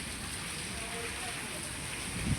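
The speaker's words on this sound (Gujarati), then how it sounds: "અહીંયા ઠેઠ ધોધમાર વરસાદ આવી ગયો છે" Heavy storm downpour with strong wind around a rural veranda, heard as a steady, dense hiss of rain on the surfaces that stays continuous and fairly distant, with a faint low rumble near the end.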